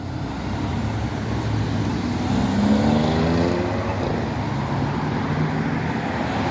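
Steady road traffic rolls through a busy intersection in upstate New York during peak hours, a broad roadway hiss with a passing vehicle swelling and fading at moderate distance.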